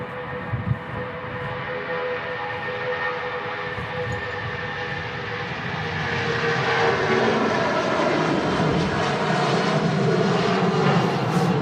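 An airliner departing Manchester Airport on a day of strong crosswinds, a sustained loud jet engine roar that builds and swells steadily, broadband and continuous.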